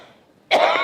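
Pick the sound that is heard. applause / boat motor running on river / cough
cough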